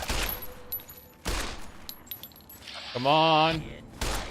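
Gunfire aimed at a Protectron robot in Fallout 3 comes as several sharp, loud shot bursts separated by pauses, with a robotic tone in between and a brief spoken remark.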